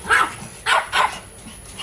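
Dogs bark outdoors in a yard at feeding time, three close, loud barks spaced out over a couple of seconds.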